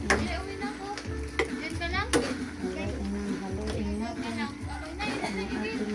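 Cassava is stirred in a sizzling pan, with a spoon scraping and clacking in uneven strokes over continuous frying hiss. A voice talks in the background.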